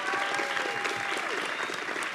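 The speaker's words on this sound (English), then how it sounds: "Let's give her another round of applause." Audience applause at a fashion show, many hands clapping in a continuous wash heard at a modest distance, with faint crowd murmur and a thin tone threaded through it.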